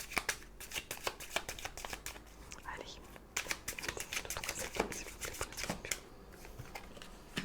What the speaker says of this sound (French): on va aller tirer quand même quelques cartes avec l'oracle G